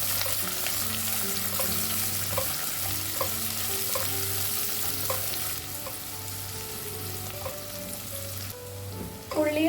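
Chopped onion and green beans sizzle and fry in a pan for a Kerala-style rava upma, a steady close crackle with occasional stirring scrapes and no talking.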